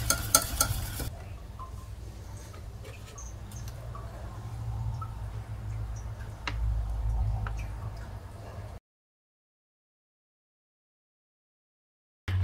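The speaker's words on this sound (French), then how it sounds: "La crème tiède avec le beurre. Le beurre va fondre tout doucement." Warm cream is stirred with butter as the butter slowly melts, giving soft, wet swishing and faint clicks for several seconds, close and low in level, before falling silent.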